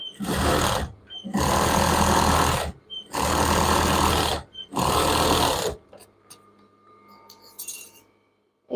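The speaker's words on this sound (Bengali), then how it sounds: "দেখেন আমি এখন সাইড দিয়ে ওয়ান ফোর করে সেলাই করে নিব" A sewing machine stitches the side seam of children's pyjamas in four loud, sustained bursts of rapid whirring separated by short pauses, followed by quieter clicks and fabric handling.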